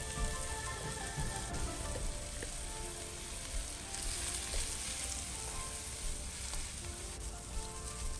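Washed rice parching in butter with star spice and five spice, a continuous dense, even sizzle like steady rain, close and unbroken throughout with no talking.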